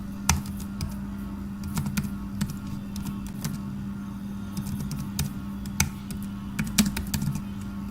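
Python code being typed on a computer keyboard: scattered, irregular keystroke clicks, some sharper than others, over a steady low hum, fairly close and moderately quiet with no talk.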